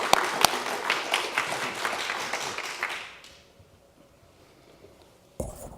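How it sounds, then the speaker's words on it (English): An audience claps warmly to welcome a speaker at a planning charrette opening presentation, a dense burst of applause for about three seconds that fades out, followed by quiet and a brief sharp noise at the end. "let's give a big round of applause and welcome to Dan Perlick of"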